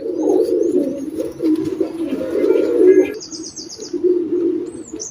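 Double-tack pigeons cooing in a low, throaty rolling murmur, with brief chirps and a light rustle of wings layered over the top, close and fairly loud.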